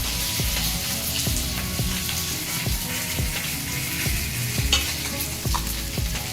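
Fish pieces sizzle steadily in hot oil in a pan. A utensil stirs or scrapes at regular intervals, giving an even rhythm of sharp knocks over the constant frying hiss.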